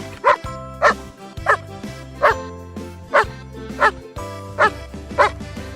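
A Collie barks repeatedly, about eight sharp, evenly spaced woofs close to the microphone over a low droning background.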